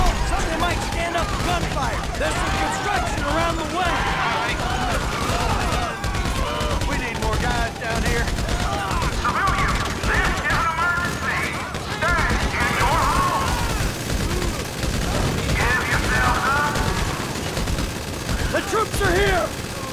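Heavy gunfire during a Grand Theft Auto V heist shootout: rapid machine-gun bursts and overlapping shots crackle continuously, with shouting voices and game chatter layered over the firefight throughout.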